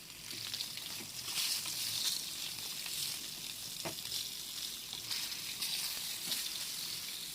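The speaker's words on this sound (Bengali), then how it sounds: "আমি আবার বাকি মাছগুলো এইভাবে ভেজে নেবো, একই রকমভাবে ভেজে তুলে নিতে হবে।" Pieces of katla fish fry in hot oil, a continuous crackling sizzle at moderate level with occasional sharper pops and light stirring, steady throughout with no talking.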